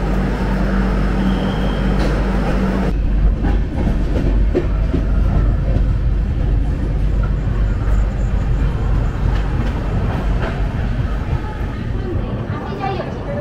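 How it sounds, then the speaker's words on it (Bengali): Shatabdi Express from Puri to Howrah running on rails near Cuttack, a loud, constant rumble with rhythmic clickety-clack of the wheels, heard close from inside the coach; an earlier tone stops about three seconds in. "সাতটা বেজে 20 মিনিটে কটক স্টেশনে এসে আমাদের ট্রেন থামলো"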